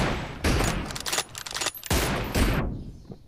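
Rapid bursts of gunfire from an M24 sniper-rifle shooter match in a video game, loud and close, cracking in several clusters across a few seconds.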